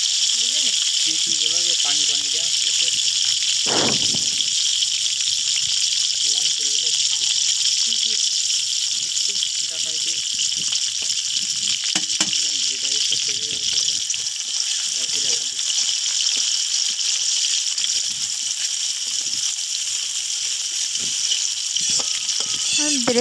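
Garlic goes into a pan of hot oil after fried onions are lifted out, making a steady, loud sizzle for chicken khichuri. It stays constant throughout while a voice talks intermittently underneath.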